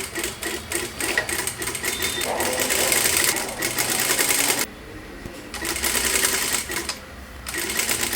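A sewing machine stitching a blouse seam with a quarter-inch margin, running in steady, loud bursts at close range and pausing briefly between runs.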